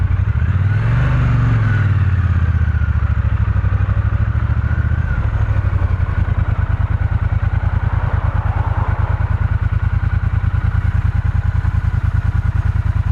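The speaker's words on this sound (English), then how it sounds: "That is one smooth running motor right there." Triumph Bonneville motorcycle engine starting up then idling steadily with a smooth, even low throb, close and loud throughout, no voices.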